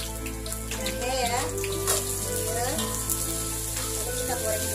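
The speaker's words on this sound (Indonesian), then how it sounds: "Lalu kita goreng juga." Shallots and ginger fry in hot oil for a crab dish, with a steady close sizzle throughout and occasional stirring scrapes, and no talk over it.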